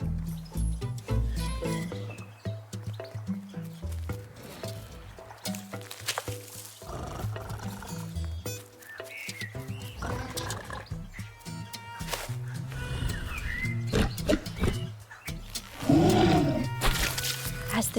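A pig in the video game The Last Campfire chews noisily, giving wet, squishy munching and grunting over a layered game soundtrack, loud and close with no talking.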